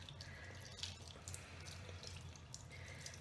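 Water running steadily from a tap as soap is rinsed out of a makeup brush's bristles, a continuous faint splashing stream with small irregular drips and no talking.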